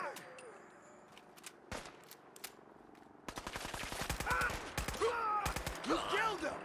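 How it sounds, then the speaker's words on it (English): Rapid bursts of AK rifle fire in Fallout 4, loud and close, starting as scattered shots and then breaking into sustained automatic strings over other in-game noise. "this AK here that you just saw me using"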